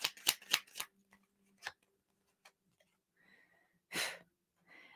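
Tarot validation cards riffled and shuffled by hand in a quiet room, with a quick burst of crisp snaps at the start, scattered lighter flicks, and another sharp riffle near the end.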